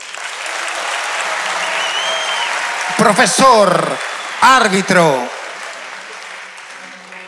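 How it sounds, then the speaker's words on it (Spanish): A live theater crowd at a comedy show applauds a participant throughout, while a voice calls out a couple of short words over the clapping partway through. "recibe el aplauso del público"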